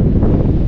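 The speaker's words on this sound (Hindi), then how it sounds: "अभी बहुत तेज हवा, बोलना भी नहीं चाह रहा।" Strong wind roars across the microphone at the Shingla mountain pass high in the Himalaya, a loud, continuous buffeting rush with no talk over it.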